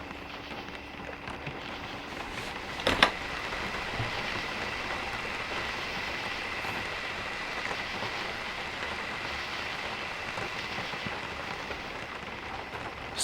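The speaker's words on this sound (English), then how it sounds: "I think it's raining again, actually." Heavy rain falls steadily on an off-grid cabin during a storm, a continuous loud hiss of drops on the roof and surroundings with one brief thump early on and no talking.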